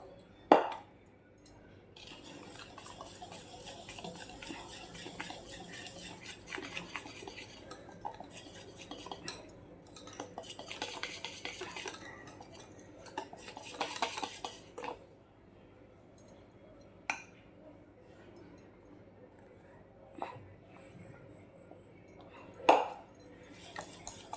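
A spoon mixes gram-flour khaman dhokla batter in a bowl, with intermittent metallic clinks and scraping against the bowl at close range, fairly quiet with pauses between bursts.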